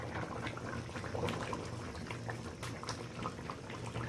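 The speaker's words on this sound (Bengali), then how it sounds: "মাছগুলোকে ভালো করে আমি তরকারির ঝোলের সাথে মিশিয়ে দিচ্ছি" Catla fish pieces simmer in a thin curry broth, making a soft, steady bubbling and gentle liquid churn as they are stirred in. The sound is quiet and continuous, with no voices.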